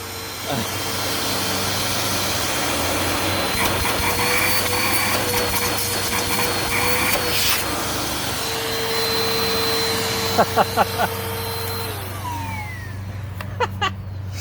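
A refurbished Bissell Powerforce Compact 2112 upright vacuum cleaner runs steadily with a loud motor whine and airflow roar, with brief rattles and clicks toward the end.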